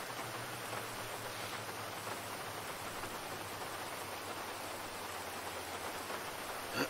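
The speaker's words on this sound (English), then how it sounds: "it's raining on the beach" Steady rain falls on a beach in a GTA video game, a constant, even hiss of drops with no breaks from start to finish.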